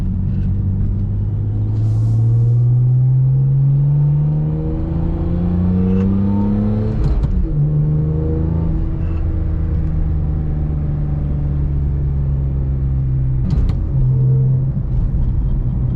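A BMW E46 M3 rumbles under way, its exhaust droning steadily with rising and falling revs through gear changes, two sharp shifts breaking the tone, loud and close from inside the car.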